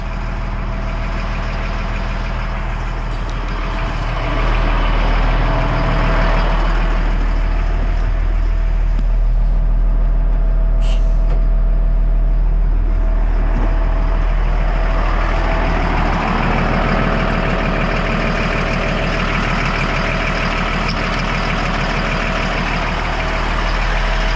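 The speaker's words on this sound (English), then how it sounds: "release the parking brake for the trailer, and that'll give air pressure to this thing" An LMTV military truck idles loudly while its trailer parking brake is released, a steady low diesel rumble broken by hissing air-release bursts and an air-brake sound, with no talking.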